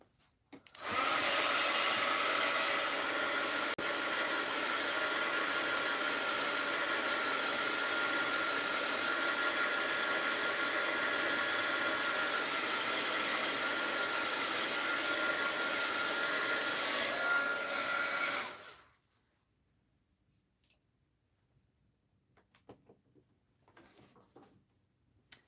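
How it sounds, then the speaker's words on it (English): A corded heat gun drying a mixed-media art journal page: a loud, steady blowing roar for nearly twenty seconds that then cuts off into near silence with faint handling sounds. "Terrible when you have to follow the cord to find your heat gun."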